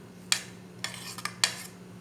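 Spinach pakora batter is stirred in a bowl, with a few sharp scraping and clinking strokes of a utensil in an otherwise quiet kitchen.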